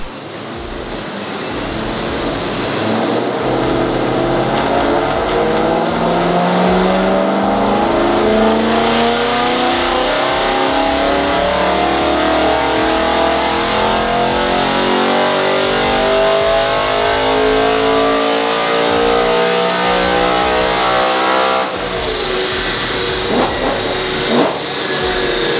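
A BMW M3 engine revs hard toward its red line after the earth connection for the coil packs is tightened, a loud sustained rising wail that climbs and holds steadily, then drops back near the end, with no talking.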